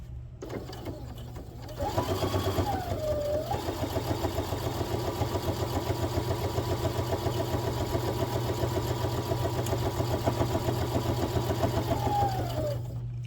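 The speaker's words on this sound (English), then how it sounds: "we can do a top stitch on top of that" A sewing machine runs steadily for about eleven seconds, its fast even needle rhythm close and continuous as it top stitches along the folded edge of a fabric pouch pocket, with no talking.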